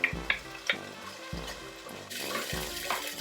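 Onions dropped into a hot pan while cooking leftover lechon paksiw sizzle loudly and steadily, with a few clattering thumps of ingredients landing and being stirred in close by.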